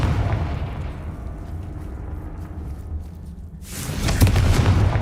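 A Confringo blasting curse explodes in the Hogwarts Legacy video game, a loud broadband burst near the end following a low rumbling ambience, with no talking.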